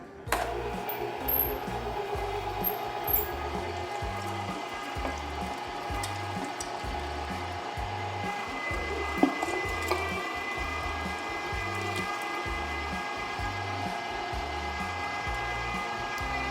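An electric meat grinder with a 4.5 mm plate works through pork shoulder and partly frozen brisket, keeping up a steady mechanical whir and a rhythmic chugging pulse, with occasional clunks and squelches, and no voices.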